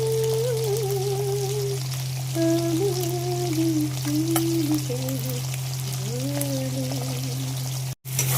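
Potatoes with spices sauté in oil left from frying fish, building a fish gravy: a steady, even sizzle runs under faint tonal sounds and a low hum, with a brief dropout near the end.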